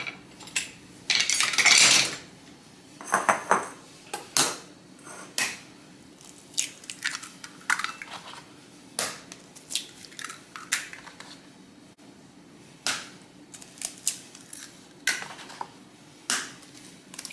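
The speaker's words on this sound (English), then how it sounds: "I'm gonna add now 8 eggs to this mixture" Eight eggs cracked one after another into a bowl of egg foo young mixture, giving sharp clicks and shell taps with small wet drips, fairly close, spread irregularly through the stretch with no talking.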